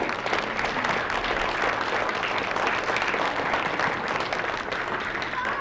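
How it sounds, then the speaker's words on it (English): A round of applause for child storytellers at an elementary school, a soft, steady wash of clapping filling the whole stretch without any talking. "We have to give them a round of applause"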